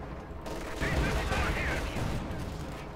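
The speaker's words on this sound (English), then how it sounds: "And an anti-tank strafing that ensures it's definitely kaput." Anti-tank strafing from an aircraft in a Company of Heroes 2 match sounds like a dense, roaring wall of rapid gunfire and rumbling impacts that swells and then stays loud for a few seconds.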